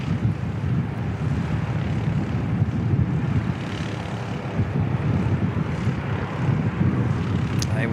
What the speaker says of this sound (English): We do have an ATR starting up